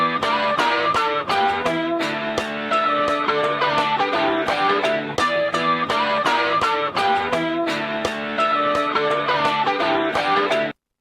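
Electric guitar playing a solo lick, a busy run of distorted notes with bends over a full-band backing track, loud and steady before cutting off abruptly at the end.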